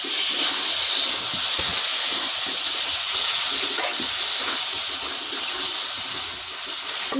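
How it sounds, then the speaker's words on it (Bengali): Water pours into a pan of fish curry made with potato and tomato, a steady close hiss and gush running unbroken throughout with no voices. "একটু জল দেবো।"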